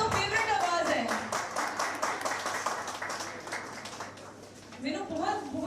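A live concert audience claps loudly in sustained, dense applause that fades somewhat toward the end, then rises again as a voice speaks over it.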